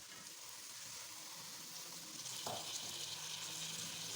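Cabbage, bell pepper and half-cooked peas sautéing in a pan, a steady soft sizzle throughout with a brief stirring scrape midway, no voices.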